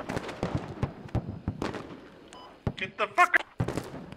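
Gunfire in the military shooter Squad, sharp single shots and short bursts scattered near and far across a few seconds, with a tighter cluster of cracks toward the end, while players shout over the shooting.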